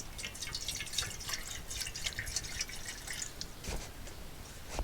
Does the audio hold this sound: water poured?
yes